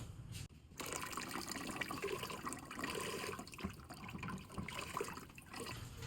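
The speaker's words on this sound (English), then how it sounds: "I'm pouring currently the broth in the pho." Hot broth pours into a bowl of Lao pho at home. After a brief start and a short gap, a steady, close liquid splashing and gushing fills the rest of the clip without any voices.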